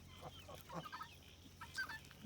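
Chickens clucking in a farmyard alongside ducks, geese and guinea fowl, with scattered soft clucks and short calls at varying distances over a quiet background.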